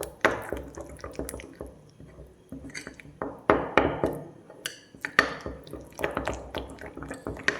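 A ragi face pack mixed with curd in a small bowl gives wet squelching and soft tapping sounds in irregular bursts, close and fairly quiet, with no talk.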